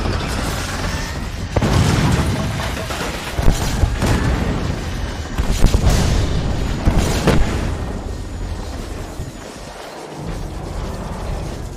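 Heavy artillery cannon fire booms in the mech strategy game Iron Brigade, a dense, rumbling barrage of blasts and mechanical clatter that runs continuously and loudly.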